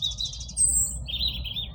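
Small birds chirp and tweet in quick high trills outdoors, a couple of singers at moderate distance over a low, steady rumble of background noise.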